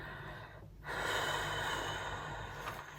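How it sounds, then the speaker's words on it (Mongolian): A person breathes out steadily before using an asthma inhaler, a long, close, airy exhalation that starts abruptly and continues for a couple of seconds over a hissy background. "тэгээд эхлээд амьсгалаа гаргана."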